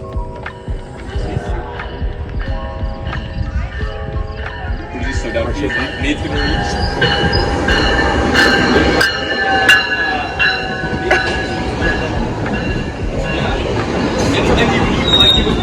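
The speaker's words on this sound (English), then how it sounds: "Is that the train?" A train rumbles past close by, with rhythmic clacking wheels and squealing metallic tones building in loudness over a continuous roar.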